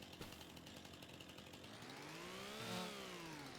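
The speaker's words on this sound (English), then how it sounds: "Break out the chainsaw once more." A chainsaw in the video game Farming Simulator 25, set on Porcupine Mountain, cuts through trees, revving steadily louder with a rising whine near the end, with no talk over it.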